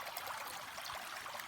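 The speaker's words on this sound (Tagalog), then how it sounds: "Malakas ang agos ng tubig." A fast-flowing stream in Guinobatan, Albay rushes steadily with a bright, constant splashing hiss, close by and uninterrupted, with no voices.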